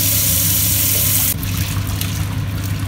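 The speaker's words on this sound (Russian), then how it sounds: "И заливаем холодной водой" Cold water poured over freshly boiled, drained eggs in a pot, a steady trickling and splashing stream that starts loud and bright, then shifts to a duller, fuller pour under a low hum.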